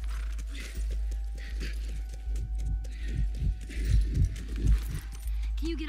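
Horse hooves in the video game The Last of Us, an irregular run of soft thuds and clops over a low steady hum, with someone talking throughout.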